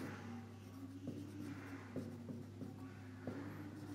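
A pen scratches across paper as a math solution is written by hand, making faint, intermittent strokes and taps over a low steady hum in a quiet room.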